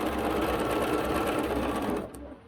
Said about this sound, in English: I'll just stitch all the way down